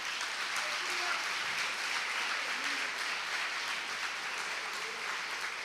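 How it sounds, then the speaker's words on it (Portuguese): A church congregation claps together during a worship service, producing a dense, sustained patter of many hands. A faint voice sounds beneath it. "Dê um aplauso a Jesus."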